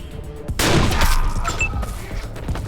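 Gunfire in the video game Wasteland 2, a sudden burst of shots and impacts with a crashing rattle that rings on briefly and fades into ambient game noise.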